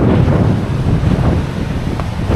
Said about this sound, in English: Windier than I expected. These waves are mental.